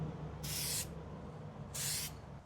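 Spray paint hisses onto a LandCruiser side mirror in two short, even bursts about a second apart, close and fairly loud over a quiet background.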